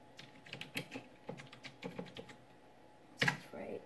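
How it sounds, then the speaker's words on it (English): Keys clatter on a Raspberry Pi keyboard in a few quick bursts of typing, close and moderately loud, ending in a sharper clack. "Look at what you're typing."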